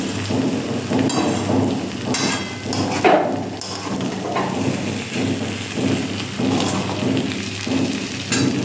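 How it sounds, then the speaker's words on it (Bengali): Poppy seed paste (posto bata), already salted, frying in a pan, giving a steady close crackling sizzle with intermittent spits and pops throughout. "এবার দিয়েছি পোস্ত বাটা দিয়ে এটা একটু ভেজে নেব।"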